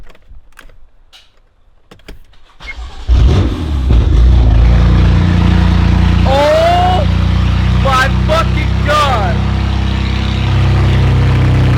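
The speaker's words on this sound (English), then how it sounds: "should we hear what the car sounds like with just open downpipes?" A BMW M3 engine runs with open downpipes and no exhaust, starting up loud and then holding a harsh, continuous roar with rising and falling revs. Excited shouting breaks in over the noise.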